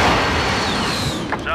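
A massive airstrike explosion in a first-person shooter, a loud, dense roaring blast that fills the clip and slowly decays, with a brief extra crackle near the end.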